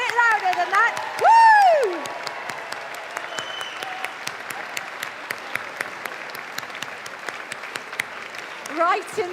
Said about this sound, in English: I want a warm Chelmsford round of applause